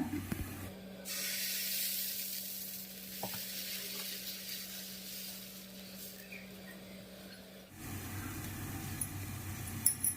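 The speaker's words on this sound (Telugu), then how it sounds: "ఇప్పుడు ఇదిగోండి పెనం వేడెక్కింది దీన్ని దోశ వేసుకుందామండి దీని మీద" Dosa batter for chicken masala dosa hits a hot pan with a sudden sustained hiss and sizzle, steady for several seconds before a shift to clinking and scraping near the end.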